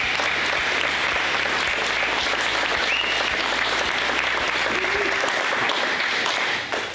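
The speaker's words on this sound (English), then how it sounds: "How about a round of applause for all of our retirees?" Full applause fills a school district retirement reception as the crowd honors retirees: dense, sustained clapping from many people in a room, steady and fairly loud, with faint voices underneath before it tapers off at the very end.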